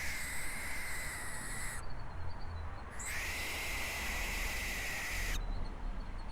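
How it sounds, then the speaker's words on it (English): A barn owl gives long, harsh, hissing screeches at close range, two sustained screams separated by a brief gap, loud and raw over a steady noisy background. "apologies, but that was a barn owl"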